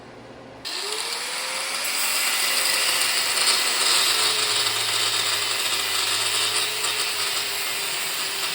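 A power tool spins up and cuts steadily through Arctic Cat snowmobile suspension parts, trimming threaded rods, a continuous loud whine with a gently shifting pitch that runs alone for several seconds.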